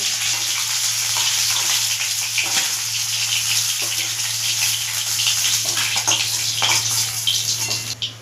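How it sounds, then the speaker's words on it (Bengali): Pieces of katla fish fry in hot oil, giving a loud, steady broadband sizzle that runs almost unbroken from start to finish with small crackling bursts. No one speaks. "বাকি মাছগুলো আমি এইভাবে ভেজে নেব।"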